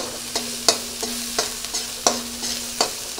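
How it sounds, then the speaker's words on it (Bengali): Spice paste frying gently in a pan while a spatula stirs it, a soft steady sizzle broken by regular scraping strokes of the spatula against the pan, close up and without any voices. "আমি বেশি কড়া কষাবো না, আলতো আলতো মশলাটা কষাবো"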